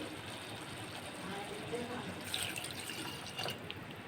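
Water is poured into a cooking pot of mutton, a soft continuous splashing and trickle that is fairly quiet, with faint background noise around it.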